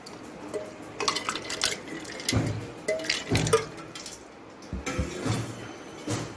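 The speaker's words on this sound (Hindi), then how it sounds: "इसमें अब हम डालेंगे जी जो शरबत हमने अभी रेडी तैयार किया है" Homemade cardamom syrup is poured into a drink, giving faint, uneven splashes and drips in a quiet room with no talking.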